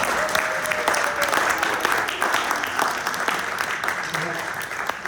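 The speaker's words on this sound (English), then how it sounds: "round of applause for Paul for the journey" A crowd at a bookstore event breaks into applause, a moderate wash of many hands clapping that gradually thins and fades, with a voice cheering briefly over it.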